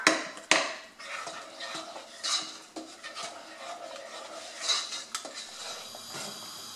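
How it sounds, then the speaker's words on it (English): A spoon stirs and presses thick fura dough in a pot, breaking up lumps, with scraping and rubbing against the sides and occasional sharp knocks, close and fairly quiet. "stir, because we want to form a thick dough"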